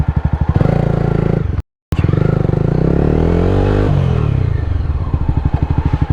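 A motorcycle fitted with an aftermarket exhaust revs hard and close, its throttle blips climbing and falling in rapid pulses, broken by a short gap of dead silence before the revving resumes.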